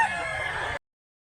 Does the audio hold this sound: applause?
no